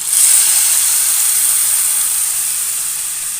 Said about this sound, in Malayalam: ഞാൻ മീൻ കറിയിലേക്ക് ഒഴിച്ചു കൊടുക്കാം കേട്ടോ